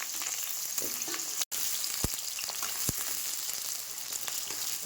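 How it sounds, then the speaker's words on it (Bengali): Small diced potatoes frying in a pan for aloo dum, a steady close sizzle with occasional light stirring taps, no talking. "আলুটা সুন্দর করে ভেজে নিচ্ছি"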